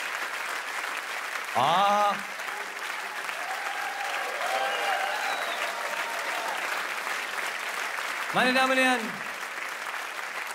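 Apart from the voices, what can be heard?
audience applauding at a comedy solo show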